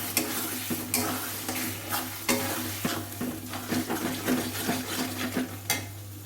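Chicken bharta masala with whisked yogurt being stirred in a pan, with a constant frying sizzle over a steady low hum and repeated spoon scrapes and knocks at an irregular pace, close up.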